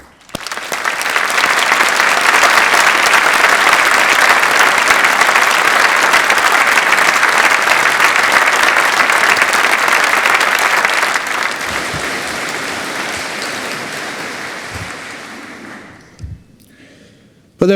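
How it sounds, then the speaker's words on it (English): A large audience at a university graduation ceremony breaks into sustained, loud applause for the graduates, a dense wash of clapping that holds steady for about fifteen seconds, then thins out and stops with a few scattered claps. "It therefore seems only fitted that we should take this opportunity to applaud them"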